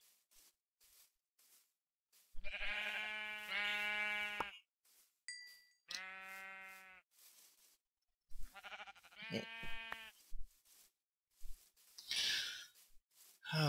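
Sheep in the Minecraft mod PolyCraft bleat several times in separate, drawn-out calls with gaps of quiet between them, fairly close and clear, with a few soft game sounds mixed in.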